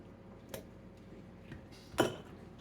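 A spoon stirs pasta into a pot of chicken, bacon and ranch sauce, giving a few faint, scattered clinks and taps of metal against the pot over a quiet background.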